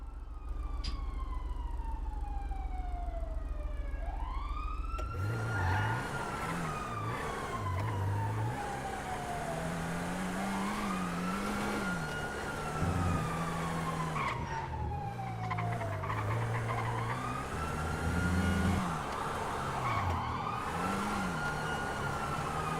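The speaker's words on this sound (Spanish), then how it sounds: "Escucho muchas sirenas." Several police sirens wail and sweep up and down in a roleplay video game, overlapping one another while a car engine revs and tyres skid beneath them, loud and continuous with no talk.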